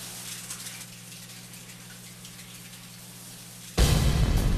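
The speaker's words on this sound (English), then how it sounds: "Somebody's taking a shower." Faint patter of running water with a low hum, then a much louder rush of spraying water bursts in near the end; a shower running in the video game Deadly Premonition.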